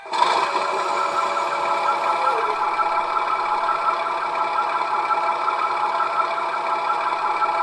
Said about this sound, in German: Dann schalte ich nur noch F7 für den Rauchgenerator und F1 für den Motorsound ein.